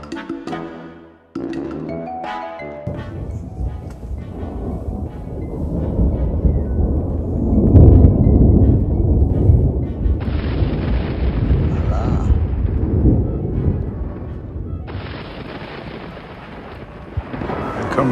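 At a campsite in a heavy rainstorm, thunder rolls in low, building booms over constant rain hiss, peaking in the middle, with people talking intermittently.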